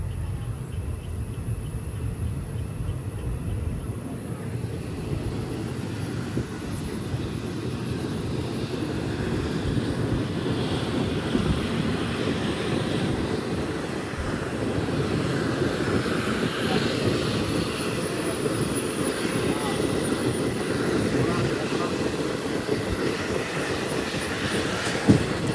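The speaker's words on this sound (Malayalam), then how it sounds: "ട്രെയിൻ ഇതാ തുവ്വൂർ റെയിൽവേ സ്റ്റേഷനിലേക്ക് എത്തുകയാണ്." Passenger train on the Nilambur Road to Shoranur line in Kerala running towards Thuvvur railway station, a steady rumbling roar of wheels and engine with airy high-frequency noise, continuous and fairly loud throughout.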